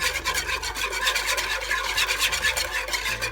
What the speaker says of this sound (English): you're now gonna turn your fire on low heat and you're gonna stir with a whisk